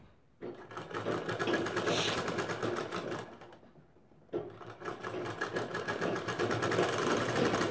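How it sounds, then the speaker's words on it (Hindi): An electric sewing machine stitches a fabric potli drawstring bag in two steady runs of fast, continuous mechanical whirring and clatter, with a brief pause between them, close and alone. "उसके बाद इसको हम चला देंगे यहाँ पर सिलाई"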